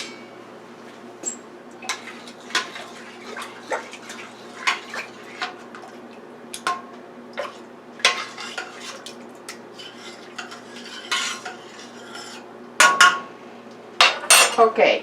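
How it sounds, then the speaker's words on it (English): A spoon stirring beef and bean soup in a metal pot, with a run of clinks and scrapes in uneven rhythm, close and clear over a quiet background and growing louder and busier toward the end. "now let me stir that up"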